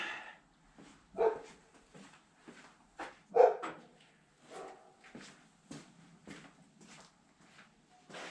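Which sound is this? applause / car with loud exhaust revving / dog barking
dog barking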